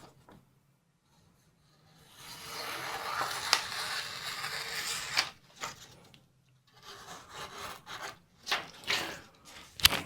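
A freshly sharpened Kershaw 7100BW knife with a CPM154 blade slices through material in a sharpness test, one long rasping cut followed by several shorter scraping strokes, close and quiet between them.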